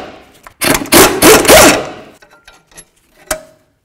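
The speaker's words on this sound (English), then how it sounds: "Now let's remove our caliper bracket bolts." Caliper bracket bolts come off the rear brakes of a 2007-2017 Ford Expedition: a loud, close burst of power-tool whirring lasting about a second and a half, followed by scattered clanks and metallic clicks.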